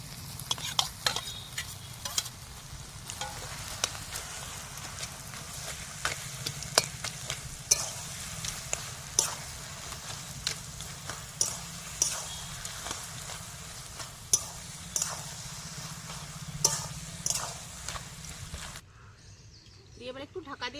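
Fried fish head returned to a pan of cabbage, sizzling steadily while a spatula scrapes and taps in quick repeated strokes, close by, ending abruptly in near silence; faint birdsong in the background.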